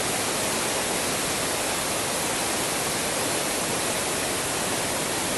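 Floodwater rushes after heavy rain in Rio de Janeiro, a loud, steady, broadband roar that fills the whole stretch without a break and with no voices over it.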